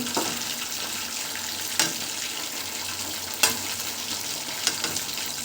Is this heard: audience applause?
no